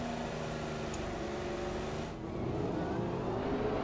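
A Formula 1 car engine in the F1 2015 racing game drones steadily on track, a continuous, fairly loud hum that dips briefly midway before picking back up.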